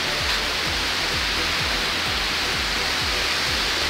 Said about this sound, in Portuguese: E tem a queda d'água ali